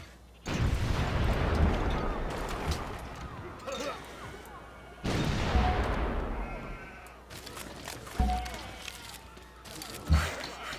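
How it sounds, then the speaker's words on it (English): Artillery bombardment in the turn-based strategy game Civilization V: heavy booming volleys with rumbling decay, two big salvos followed by scattered single blasts, loud and close. "Okay, set up, commencing bombardment."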